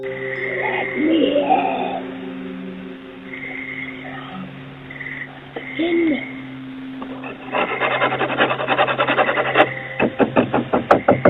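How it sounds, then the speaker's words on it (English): Someone scratches on a door at night, picked up by a doorbell camera: eerie sustained tones give way to rhythmic rasping scratches that grow louder and quicker toward the end. "The woman began scratching the door"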